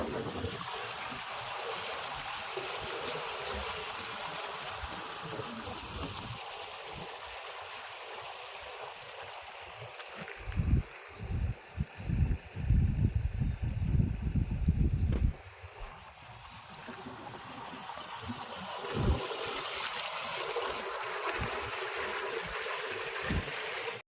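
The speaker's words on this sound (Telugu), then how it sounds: "ఇదిగోండి వాటర్ అయితే ఇటైతే పంపిస్తున్నారు అన్నమాట." Water pumped out of a 50-acre lake during dewatering works at a central park in Amaravati, heard as a continuous rushing, gurgling flow with a louder, heavier surge midway, steady and fairly close, with no talking.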